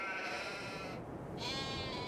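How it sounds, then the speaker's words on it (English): A sheep in the Farming Simulator 22 video game gives a single close, drawn-out bleat lasting about two seconds, clear and alone. "So here we have our sheep."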